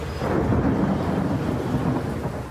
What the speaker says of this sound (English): Thunder and lightning overnight as storms ripped through the region